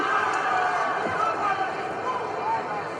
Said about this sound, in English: Please, you hear the crowd here.